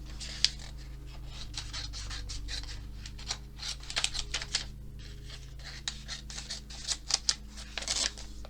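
Scissors cutting paper to make a tuck spot for a handmade journal: quiet, irregular snips and paper rustles close by, with no talk.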